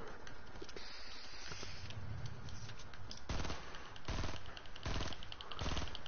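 Rapid automatic gunfire from the video game Fortnite rattles in dense bursts, loud and continuous, with rapid-fire volleys growing heavier toward the end.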